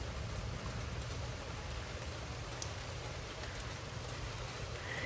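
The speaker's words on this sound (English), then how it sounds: "Here comes the rain. It's getting harder." Rain falls steadily and fairly heavily during a thunderstorm in Frisco, Texas, a dense even hiss of drops with a low rumbling undertone, no voices.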